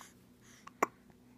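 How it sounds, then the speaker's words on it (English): A baby gives a single short, sharp hiccup, quiet and close in a still room, with a fainter catch just before it. "Those hiccups are a pain, aren't they?"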